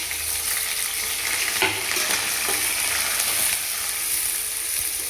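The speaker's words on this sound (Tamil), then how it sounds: "இது வந்து இப்போ வெங்காயம் வந்து நல்லா சூப்பராக ஃப்ரை ஆகும்" Onions and curry leaves frying in oil for mutton gravy, giving a steady, dense sizzle with light stirring, close and even throughout, with no talking.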